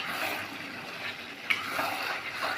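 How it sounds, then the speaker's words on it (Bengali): Water is poured into a pan of browned mutton cooking on the stove, setting off a loud, steady hissing sizzle with a brief splash midway and no voices. "তো দেখো এখন পরিমাণ মতন জল দিয়ে দেওয়া হচ্ছে"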